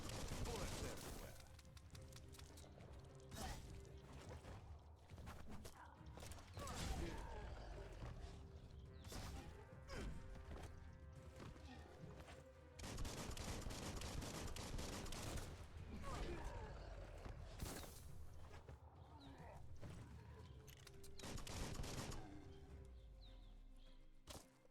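Gunfire in Biomutant, a post-apocalyptic action game: dense, sustained volleys of shots crackle and thud almost continuously for over twenty seconds, mixed with crashes and mechanical clatter and a voice occasionally speaking over them.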